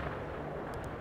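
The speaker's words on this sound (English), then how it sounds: "heavy artillery is so good" Heavy artillery fire in the real-time strategy game World in Conflict, a dense continuous low rumble of distant shelling with a couple of brief higher crackles near the end.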